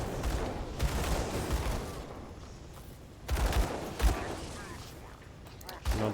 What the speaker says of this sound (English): He's shooting these projectiles.